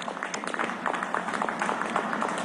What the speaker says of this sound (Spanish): quiero que le demos un aplauso a todos los policías del país